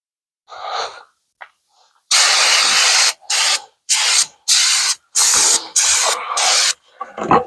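Carb cleaner blasted at a Ford oil bath air cleaner to strip paint makes loud, close hissing sprays, one long burst followed by a quick series of short ones, after some quieter rustling and handling.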